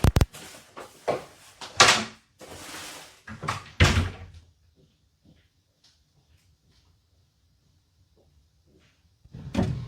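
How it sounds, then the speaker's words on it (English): A door is closed during a wireless microphone test: a few knocks and a thud come close and fairly loud amid handling noise, then near silence, with a faint sound returning at the end. "close this door completely away from the device"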